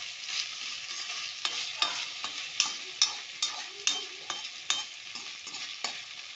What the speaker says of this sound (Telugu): ఇది నూనెలో బాగా వేగాలి.